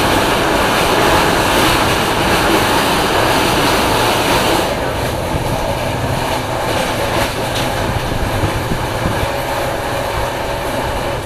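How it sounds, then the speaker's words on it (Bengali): Jnaneswari Express passenger train running steadily on rails, a continuous loud rumble and rattle of carriages with clickety-clack texture throughout, heard from inside or close to the moving train, no voices. "আজকে সারাদিন ট্রেন চলবে, সারা রাত চলবে"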